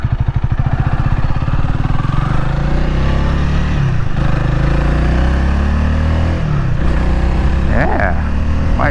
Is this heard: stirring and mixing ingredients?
no